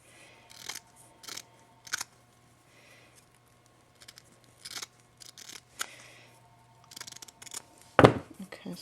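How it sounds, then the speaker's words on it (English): Scissors snip through an ornament piece in a few short, sharp cuts spread across a quiet tabletop, with light handling noises in between and no talking. "I actually think I'm going to cut this off here because I don't like this piece here."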